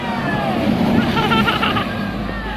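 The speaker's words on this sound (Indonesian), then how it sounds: "selanjutnya ada bus ALS ya, yang akan menuju Pulau Jawa" An ALS intercity bus on a Sumatran road heading for Java rolls past with a steady, loud engine drone and tyre roar, traffic noise and faint voices mixed in throughout.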